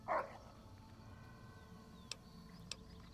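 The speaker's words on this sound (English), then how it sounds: "Happy bark." A dog's short, bright bark yips once at the start in the video game Fallout: New Vegas, fairly faint over a low steady hum, followed by two tiny clicks later on.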